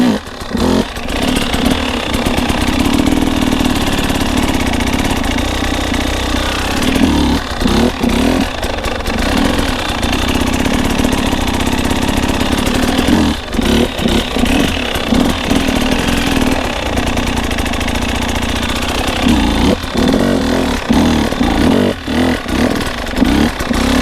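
Off-road motorcycle engine held near the clutch bite point during a slow pivot turn, idling steadily with a few brief revs and dips, loud, close and continuous, with no talking over it.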